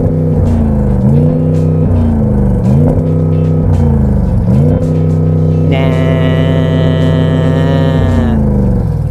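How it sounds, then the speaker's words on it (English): Audi S8 V8 engine revving hard in repeated bursts from a stationary car, each climb cut short by a soft rev limiter, loud and close, with a steady high whine toward the end. "rev up the engine, go on."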